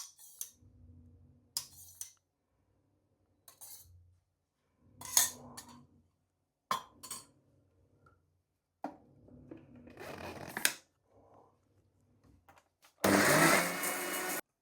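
A mixer grinder blending coconut, fenugreek seeds, chili and thick curd into a paste for tambuli gives one loud whirring burst near the end, after scattered quiet clinks and handling noises in a kitchen; no one speaks.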